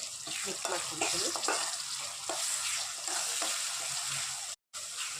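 Fried onions with added spice powder stirred in a hot pan, giving a steady sizzle broken by scraping strokes of the spoon, with a brief dropout near the end.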